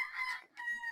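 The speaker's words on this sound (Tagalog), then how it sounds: "magpapakain muna tayo ng inahin" A hen gives a short, faint, nasal call in two quick parts, close by and alone without any talk.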